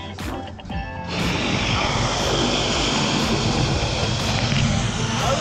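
A propeller engine on a skydiving plane carrying a tandem jump runs with a loud, steady roar that swells after a brief pause and then holds, close by, with voices faintly present at the start.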